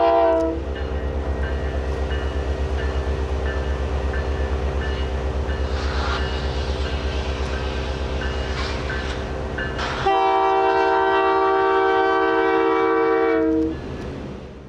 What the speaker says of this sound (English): GP20C-Ecos are making a light move back to the industries to the west